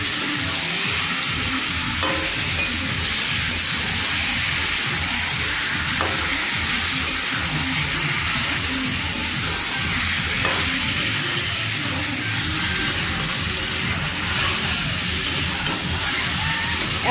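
Meat frying in a pan during a home cooking session, a steady, dense sizzle with scraping stir strokes throughout, close and fairly loud, no talking.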